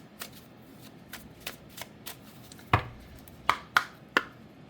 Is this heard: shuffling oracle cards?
yes